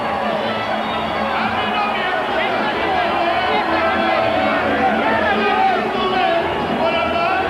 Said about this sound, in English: The Vargas followers come back with volume of their own.